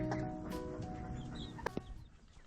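Silkie chickens cluck and call softly near a coop, with short, scattered fowl sounds and a few sharp bursts over faint farmyard background.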